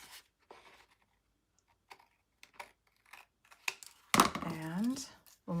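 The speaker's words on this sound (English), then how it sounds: "this is where the long bladed scissors comes in handy because you can keep things nice and sturdy" Long-bladed scissors cut paper with a few soft snips and scratchy rustles, close by, and a voice starts talking over the later cuts.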